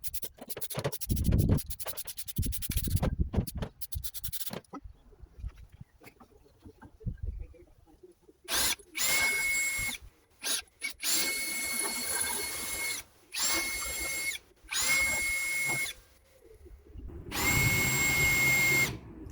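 A power drill bores into rust-damaged patio posts in repeated bursts, loud and close, with scraping and handling noise between runs and no talking.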